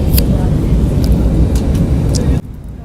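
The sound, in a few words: airplane cabin noise during landing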